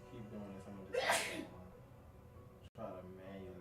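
A single sharp sneeze bursts out close to the microphone amid quiet background sound, followed shortly by soft talking.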